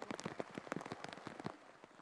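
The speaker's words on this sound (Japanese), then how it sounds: "雨の中での作業で少し苦戦しましたが" Rain patters irregularly on surfaces during an outdoor sweet potato harvest, close, quiet, uneven drops tapping throughout.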